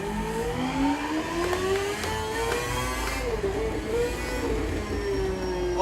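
A motorcycle engine in the GPBikes VR racing game revs and wavers, pitch climbing and dipping with twitchy throttle blips over a continuous mechanical whine, with a voice faintly underneath.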